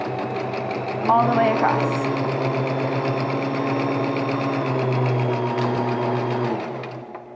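A sewing machine runs steadily as it sews a fabric face mask, whirring through a short back stitch and then a long straight line, loud and close. A person talks briefly over it.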